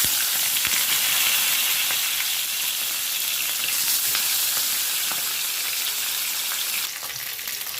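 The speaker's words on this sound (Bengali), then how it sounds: "মাছটা দিয়ে দেবো আস্তে আস্তে ভেজে নেবো আমি মাছটা" Shating fish frying in hot oil in a wok, a loud, even, continuous sizzle and crackle that eases slightly near the end, with no voices.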